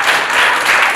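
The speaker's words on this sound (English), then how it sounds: "Please clap for her." Steady clapping from a school audience praises a student speller at a spelling showcase, a brief, dense, fairly loud burst.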